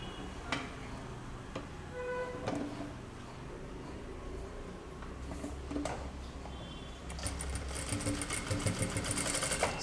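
A sewing machine stitches the neck and shoulder of a kurta, with ticking needle strokes over a low motor hum, close and moderately loud, the pace picking up toward the end.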